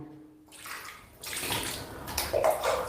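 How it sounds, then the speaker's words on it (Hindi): Water splashing and pouring as both feet are washed up to the ankles during a ritual Islamic bath, starting quiet then rising into a steady rushing slosh. "अब दोनों पैर आपको टखनों समेत धुल लेना है"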